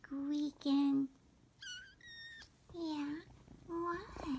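A small kitten gives a run of high, squeaky meows, close and fairly quiet, with short pauses between them and someone talking softly in between.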